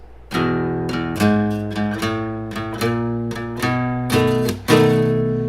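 A guitar plays an easy old-school 12-bar blues turnaround, a string of plucked notes and chords ringing clearly and close, with no voices.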